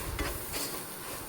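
Spices and Kashmiri chilli fry gently on a simmer in a pan for Kerala chicken curry, a close, steady sizzle with a couple of brief stirring scrapes.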